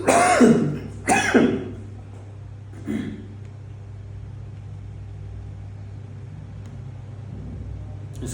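A person with a chronic cough coughs and clears his throat twice in quick, loud bursts near the start, then once more faintly, over a steady low engine-like hum.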